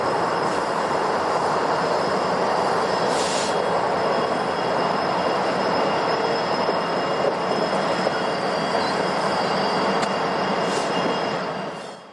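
A train rumbles steadily past on the track at Hamilton West, a loud continuous roar of wheels and cars that stays close throughout before easing off at the very end.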